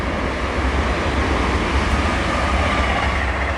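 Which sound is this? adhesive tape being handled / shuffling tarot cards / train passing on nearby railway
train passing on nearby railway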